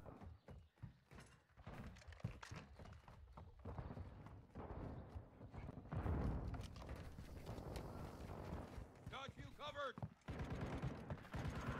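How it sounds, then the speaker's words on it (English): Rapid gunfire from an HK gun in the video game Modern Warfare 2 sounds in dense, loud bursts and clattering volleys amid busy game noise, with a voice talking over the action. "Ah, that's the HK gun. Jesus Christ, the sound of that gun is actually comedic."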